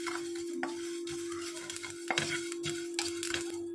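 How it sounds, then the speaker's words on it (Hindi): Fennel, mustard and fenugreek seeds dry roasting in a pan, a light crackling sizzle with intermittent scraping stirs and a steady low hum behind, close and quiet with no talking. "राई, सौंफ और मेथी को हम भून लेंगे। हल्का भूनना है,"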